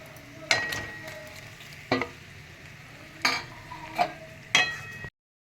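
Pointed gourd frying in a pan gives a low steady sizzle, broken by five sharp clinks and scrapes of a utensil against the pan at uneven intervals, close and clear with no talking.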